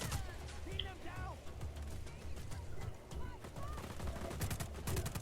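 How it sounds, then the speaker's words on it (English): Bursts of machine gun fire ring out in Just Cause 4, rapid sharp cracks coming in clusters over a busy game soundscape, with a voice briefly audible. "I'm gonna have to get in the machine gun"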